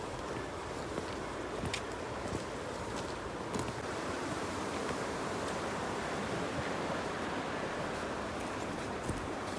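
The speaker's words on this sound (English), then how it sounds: "It's so windy here." Strong wind roaring across a long suspension bridge in Punakha, Bhutan, a steady broadband rush with buffeting gusts throughout, close to the microphone.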